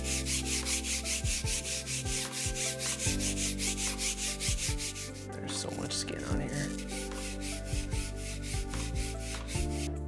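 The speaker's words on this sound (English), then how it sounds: "we're gonna take our fancy new brush, and we're gonna get all of the chalk residue, all of the skin, all of the blood that we can get off the bar" A new brush scrubs chalk residue, skin and blood off a home-gym barbell, giving a steady rhythmic rubbing and scraping that runs close and fairly loud throughout, with a brief pause midway.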